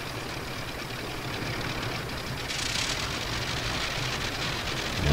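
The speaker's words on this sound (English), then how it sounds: "Try to get a good engine start here." A WWI aircraft engine in Rise of Flight sputters into life, a steady, noisy rumble that grows slightly louder and rougher partway through, ending with a thump as it catches.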